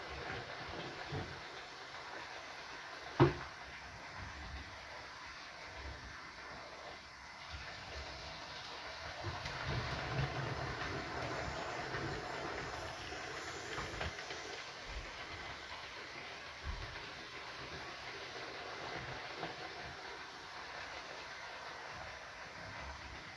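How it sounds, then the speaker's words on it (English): A model railway locomotive runs along its track during a live running session, giving a steady, fairly quiet rolling rumble and hiss with a single sharp click early on. "See the underframe detail of that locomotive when it comes around."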